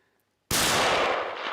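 A single loud, close rifle shot fired at a moose during an Alaska Yukon hunt, a sharp crack after near silence with a long rolling echo trailing off through the rest of the moment.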